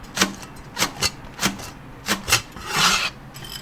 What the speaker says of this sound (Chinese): 把那些泡菜都切成颗颗